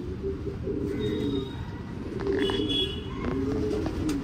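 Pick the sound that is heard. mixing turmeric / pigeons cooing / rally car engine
pigeons cooing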